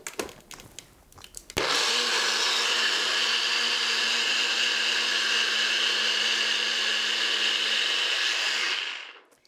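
A blender whirls a kale acai smoothie with coconut almond milk, starting abruptly after a few faint knocks and running as a loud, steady, close-up whir for about seven seconds before winding down, with no talking.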